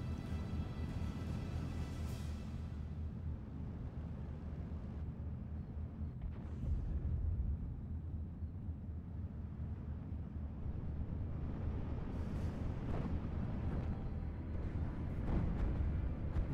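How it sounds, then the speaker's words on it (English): Naval battery artillery barrage in a World War II strategy video game: a long, steady low rumble of distant explosions, with a few heavier blasts breaking through, continuing without letup. "See another naval battery barrage."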